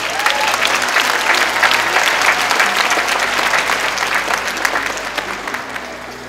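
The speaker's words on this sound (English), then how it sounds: "Please give a warm round of applause for Tony Chennault." Graduation audience at a charter high school giving loud, sustained applause for a keynote speaker, a dense, close roar of many hands clapping that holds steady and eases slightly toward the end.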